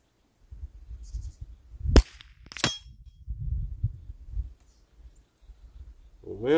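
Remington 597 rifle fired at a 200-yard target outdoors, two sharp cracks a half second apart standing out over faint wind and rustling, with a brief voice stirring at the very end.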